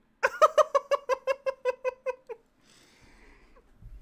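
A cat gives a rapid run of about eleven loud, close meows in steady rhythm, followed by quieter rustling and a low thump.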